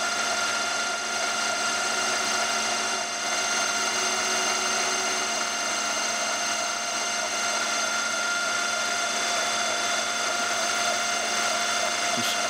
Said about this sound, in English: I'm slowly increasing the feed of the cutter.